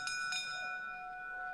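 A boxing ring bell at a heavyweight fight rings a couple of quick clangs that leave a long, clear ringing tone fading under crowd ambience.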